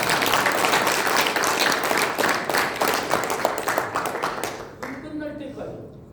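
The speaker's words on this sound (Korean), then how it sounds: "박수 좀 부탁드립니다." A workshop audience of company executives claps together in a hall, a dense, steady round of applause that fades toward the end as a voice begins speaking over it.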